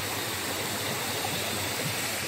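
River water rushes steadily past a spot where a kayak sits on slippery, mossy rocks, a dense, even wash of flowing water with no voices.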